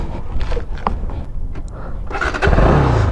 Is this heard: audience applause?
no